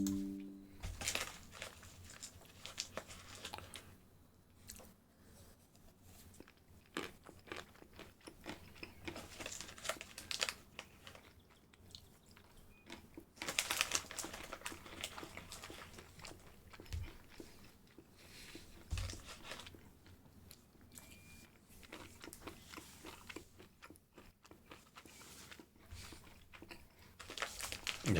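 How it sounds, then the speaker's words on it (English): Someone munches cashews close up, with soft irregular crunching and chewing plus crinkling of a packet, quiet and sporadic throughout, with no talk. "I'm munching some cashews."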